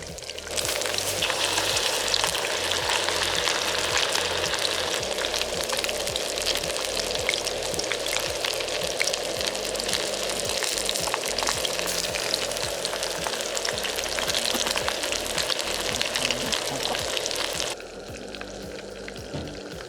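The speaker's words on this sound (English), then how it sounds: "let the oil reach 160 degrees, then start frying" Chicken pieces fry outdoors in oil at about 160 degrees, a steady sizzle and crackle, a dense, continuous frying hiss that drops slightly near the end.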